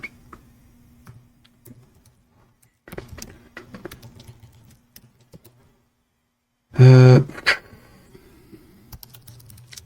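Light, sparse typing on a computer keyboard during a coding session, soft scattered key clicks heard close, broken by a short loud voiced sound near the end.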